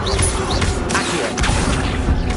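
A summoning spell cast in Hogwarts Legacy on PS5 produces a dense, continuous magical rush with creaking, mechanical-sounding layers. The sound holds steady and fairly loud for the whole stretch.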